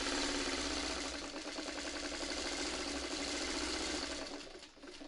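A sewing machine stitches back over the French seams of a burrito-style tote bag, giving a steady, loud, close mechanical whir that runs unbroken for about five seconds before easing off slightly at the end.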